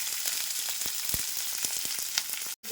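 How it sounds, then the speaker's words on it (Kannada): Onions, curry leaves and green chilli fry in hot oil in a home kitchen, giving a continuous close crackling sizzle with scattered sharper pops, then a brief cut to silence near the end. "ಇದೆಲ್ಲ ಸ್ವಲ್ಪ 2 ನಿಮಿಷ ಫ್ರೈ ಮಾಡ್ಕೊಳ್ಳೋಣ."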